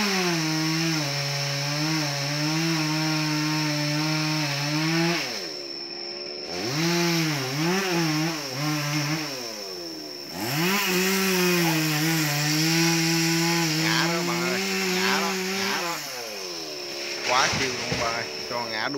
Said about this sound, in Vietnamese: cưa cái đoạn dài như vậy nha bạn